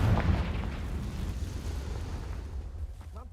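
A Confringo fire blast spell explodes in Hogwarts Legacy, a loud burst with a deep rumbling boom that rolls on and slowly fades over a few seconds.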